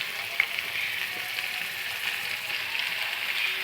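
Boiled radish greens hitting hot oil in a pan, a steady bright sizzle and crackle of frying that holds evenly throughout, with a few small pops, close and moderately loud.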